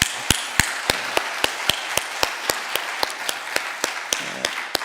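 A congregation at a Sunday worship service claps in a steady rhythm, sharp regular claps landing about four per second over a continuous wash of scattered applause.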